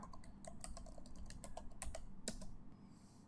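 Quick, close keystrokes on a computer keyboard, a steady run of light clicks for about three seconds that then stops, with no talking.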